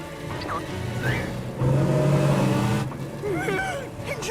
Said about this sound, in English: The Mystery Machine's engine sound was borrowed from a completely different production.